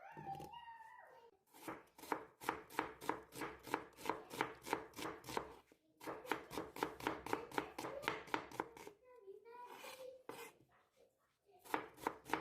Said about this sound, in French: je prends un oignon et je le coupe en fines tranches.